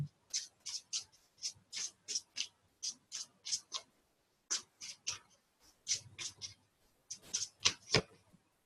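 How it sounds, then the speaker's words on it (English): A deck of cards being shuffled close by during a horoscope tarot reading, with repeated bursts of crisp riffling and flicking in quick rhythmic runs separated by short pauses, no talking. "You're seeing me shuffling."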